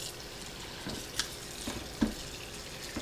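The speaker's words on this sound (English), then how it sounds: "You want to use cold water, not hot water" Cold tap water runs steadily over frozen shrimp in a kitchen sink, a constant close hiss broken by a few louder splashes and drips.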